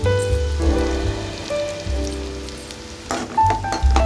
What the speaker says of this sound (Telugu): ఎండ్రాయిలు నూనెలో 1 నిమిషం వరకు వేగాలి